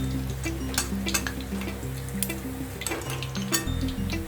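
Chicken pieces fry in hot oil, giving a continuous crackling sizzle with sharp pops and occasional clinks of a utensil against the pan, close and steady.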